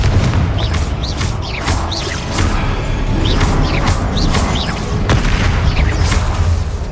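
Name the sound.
Confringo blast spell in video game Hogwarts Legacy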